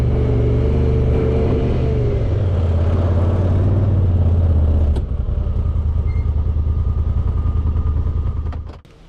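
Polaris RZR XP side-by-side off-road vehicle idling along slowly in a tight circle at low gear, a steady close engine drone with clattering that drops in pitch midway and fades out at the end.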